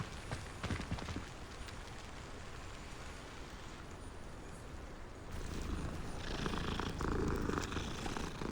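A cat in the video game Hogwarts Legacy purrs with a steady, low drone without a break, growing slightly louder and rougher toward the end, with no voices over it.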